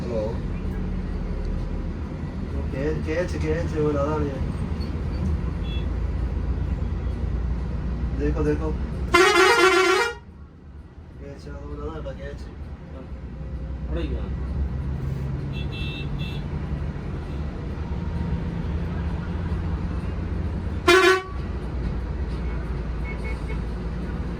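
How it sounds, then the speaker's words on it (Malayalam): Busy evening road traffic in Trivandrum with a steady roadway rumble and two loud, sharp horn blasts, one near the middle and one later, while people talk over it. "ട്രിവാൻഡ്രം ട്രാഫിക് ആണ് കേട്ടോ ഇത്."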